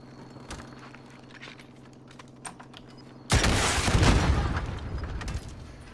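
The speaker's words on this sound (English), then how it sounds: "I'm just shooting. Sniping now." Keyboard tapping while gaming, then a sudden loud burst of gunfire while sniping in Call of Duty: Warzone on PS4, with heavy sustained shots and rumbling blasts that fade gradually.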